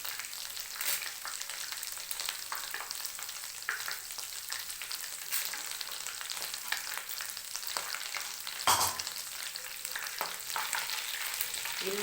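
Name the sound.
spices frying in a pan for vegetable pulao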